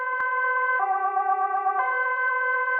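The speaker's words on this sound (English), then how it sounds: "Don't mind the goddamn sirens." A loud emergency siren sounds without pause, its tone stepping between pitches every second or so, with no voices.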